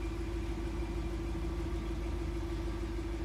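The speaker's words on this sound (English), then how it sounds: "hold it in, and the vehicle will start rising" A 2022 Land Rover Range Rover's suspension raises the vehicle with a steady, even mechanical hum that holds at a constant level throughout, with no talking.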